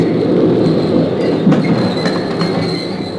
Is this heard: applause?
no